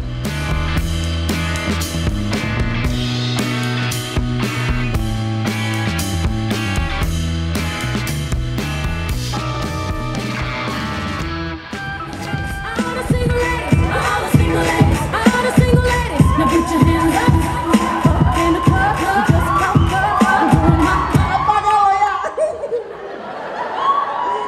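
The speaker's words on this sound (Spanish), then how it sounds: "¿Qué está aplaudiendo?" A studio audience at a comedy show claps, cheers and laughs in a lively crowd roar, with music playing under the first half and the noise fading out at the end.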